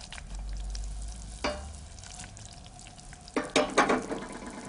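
A pan swirled on a hob with food frying inside, a steady low sizzle with a couple of brief scraping, sloshing bursts as the pan moves, close and alone.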